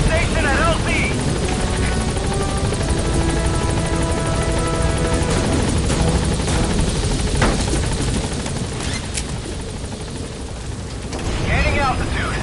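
The Pequod helicopter in the video game Metal Gear Solid V thumps loudly and steadily through its landing, rotor beat dense and close throughout, with radio-style voices talking over it.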